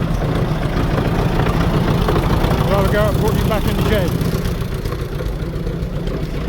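A Standard Fordson tractor converted to a Perkins 4.270 diesel engine idles steadily with a low, chugging rumble while someone talks over it nearby.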